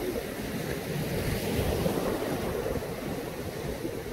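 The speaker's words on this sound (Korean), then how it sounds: "파도가 지금 말도 못하게 지금 심합니다" Heavy surf pounds continuously during a typhoon at Songjeong's Jukdo Park coast, a dense, roaring wash of breaking waves with wind buffeting the microphone, loud and steady with no talk.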